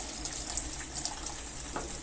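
Tamarind water, about two tablespoons from soaked tamarind, poured into frying masala for achari bhindi, giving a steady close liquid splash and gush with a faint sizzle underneath, no voices.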